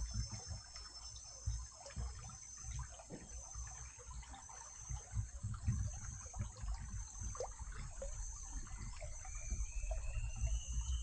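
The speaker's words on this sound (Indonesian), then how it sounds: "Okey, boleh dengar bunyi-bunyi denai sungai ya." A river stream trickling along the trail to a cave, heard as a soft, steady babble of flowing water with faint splashes, backed by a constant high whine of insects, with no talking.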